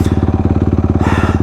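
A motorcycle engine idles close by at 188 degrees in desert heat, a loud, steady low chugging with an even rapid pulse and no revving.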